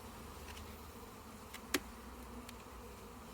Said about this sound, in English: this is where you hear the change in tone of the bees, and you hear them go up a notch